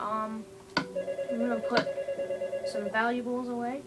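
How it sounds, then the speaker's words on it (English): A mobile phone rings with a repeating electronic melody of bright tones, playing under a man's nearby speech. "That's my phone ringing."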